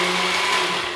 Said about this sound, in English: I'm gonna put this all in, blend it until it's thoroughly mixed.